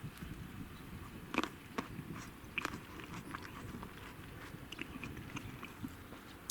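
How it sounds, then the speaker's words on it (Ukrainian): An early-ripening table grape berry crunched between the teeth, heard as irregular sharp crisp bites and chewing clicks that repeat over several seconds, close and fairly quiet over low outdoor background noise. "зірву ягодку, і ви послухаєте, як вона хрумкатить у мене на зубах"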